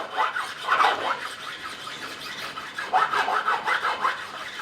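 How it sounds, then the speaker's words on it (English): Profiling file crowning the frets of a 2007 Fender Stratocaster during a re-fret, giving steady back-and-forth rasping strokes in rhythmic bursts, close and clear with no talk. "We now take the profiling file, we're going to do the same thing again"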